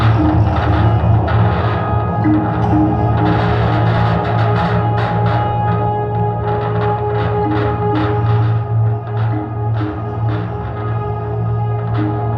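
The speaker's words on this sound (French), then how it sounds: "Tout est amplifié et relié à des pédales d'effet de guitare, ce qui transforme les sons, des délais qui répètent le son, des réverbérations, des distorsions." An adult sound-creation workshop plays amplified instruments run through guitar effect pedals, with delay, reverb and distortion. The result is a continuous, dense, droning wash with scattered echoing hits, loud and without voices.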